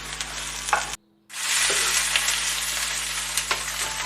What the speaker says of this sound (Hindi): ये प्याज मैंने इसमें डाल कर मैं फ्राई कर रहा हूँ कढ़ाई में